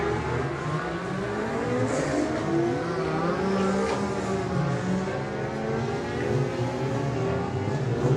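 A Ducati racing motorcycle at the Cookstown 100 road races roars past, its engine note rising and falling steadily and loud for several seconds, close to the track.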